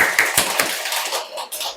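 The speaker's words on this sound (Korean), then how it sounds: "우리 한번 박수 한번 쳐보겠습니다." A church congregation claps hands together in a short burst of sharp, rapid smacks that thin out into scattered claps, fairly close and with no talking over it.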